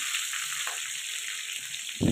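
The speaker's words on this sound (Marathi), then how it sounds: "छान तडतडले आणि चांगली फोडणी बसली की मग भेंडीला चव पण लागते" Mustard seeds, cumin, curry leaves and green chillies crackle and hiss in hot oil for an okra stir-fry tempering, a steady close sizzle that ends in a louder burst of spattering.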